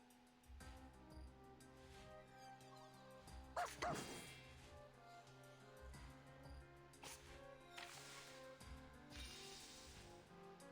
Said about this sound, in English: The puppy agreed with your decision.